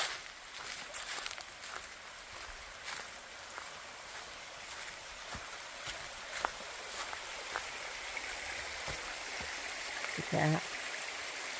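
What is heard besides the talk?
stream of flowing water on a hiking trail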